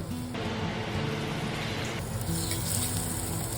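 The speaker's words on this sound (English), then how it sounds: "Now make room in a pan so we can sear the liver." Liver and onion sizzle steadily in a hot oiled pan, a constant close frying hiss with a faint background hum.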